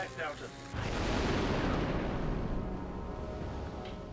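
An explosive charge detonates in the Star Wars: Republic Commando video game, a sudden deep boom that swells into a long rumbling roar and slowly fades, loud and close after a brief game voice.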